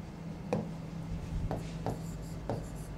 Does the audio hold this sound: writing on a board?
yes